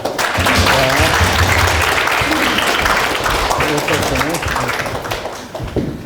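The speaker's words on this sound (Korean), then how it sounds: "박수" Audience applause for a student at a youth character camp, dense sustained clapping from a crowd that fades toward the end, with voices mixed in.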